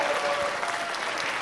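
Audience applause at an electronic music concert at the College of San Mateo: a short burst of dense clapping from a seated crowd, continuous and fairly even, with no voices over it.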